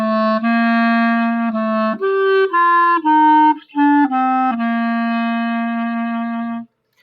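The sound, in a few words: B natural note played on a valved instrument, middle valve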